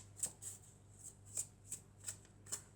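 Oracle cards are shuffled and drawn by hand, giving a series of crisp, evenly spaced riffling snaps, close and quiet, with no talk.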